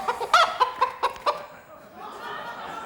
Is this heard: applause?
no